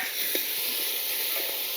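Finely chopped tomato fries in oil for palak paneer cooked on a clay stove, giving a steady, bright sizzling hiss with a few soft stirring taps.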